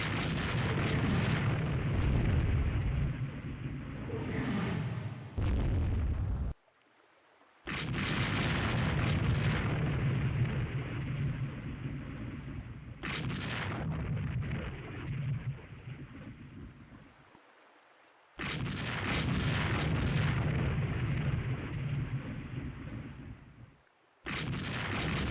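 Heavy naval five-inch guns fire in a Rule the Waves 3 battle, a run of loud, deep booming salvos with rumbling tails, broken by brief silent gaps between bursts.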